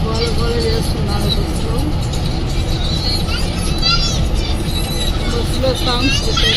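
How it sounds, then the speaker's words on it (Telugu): Children shout and chatter noisily inside a moving bus, with dense babble and high excited voices over a constant engine and road rumble. "పిల్లలు గోల గోల చేస్తున్నారు."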